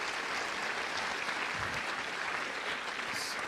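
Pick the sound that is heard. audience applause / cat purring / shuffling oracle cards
audience applause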